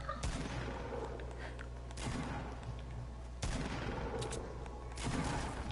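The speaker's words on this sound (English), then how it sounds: "Shooting's going on, my bad." Bursts of video game gunfire from a duos match, rapid rattling volleys coming in waves over a steady low hum, with no speech during the shooting.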